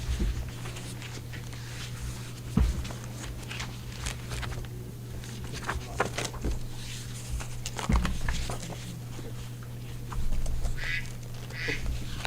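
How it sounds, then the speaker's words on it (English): A dog making quack-like sounds at a board of elections meeting, heard as a few short bursts over a steady room hum with no talking. "Your dog's quacking."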